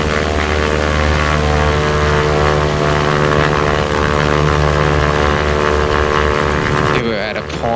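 Propeller airplane at full throttle pitching up with rudder held to keep heading, a loud continuous engine-and-prop drone with steady harmonic tones that shifts pitch near the end, a voice talking over it.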